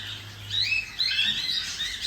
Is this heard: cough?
no